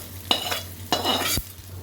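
A spatula stirs a tempering of urad dal, chana dal and curry leaves into a mango and palak keerai chutney, giving two or three quick scraping strokes over a light sizzle, close and quiet.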